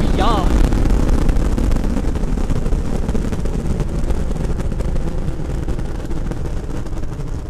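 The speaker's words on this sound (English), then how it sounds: "Boosters in ignition. And liftoff of Artemis I." The Artemis I rocket lifts off, its core stage engines and two solid rocket boosters producing a loud, continuous, broadband roar that fills the clip steadily, with a brief tone at the start.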